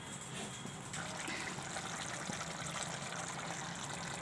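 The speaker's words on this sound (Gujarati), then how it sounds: "તો આપણે હજી થોડુંક પાણી નાખશું આમાં" Water is poured into a pan of cashew and potato curry (kaju bataka shaak) as it cooks, a soft, steady wash of liquid sound that stays faint and continuous throughout.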